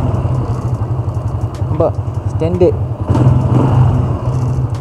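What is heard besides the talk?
motorcycle engine running with electric starter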